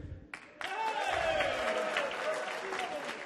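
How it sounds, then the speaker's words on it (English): An audience at a ragtime concert on the Millennium Stage breaks into applause and cheering after a brief pause, sustained dense clapping with a few voices rising above it, fairly near and loud. "the audience will clap and cheer"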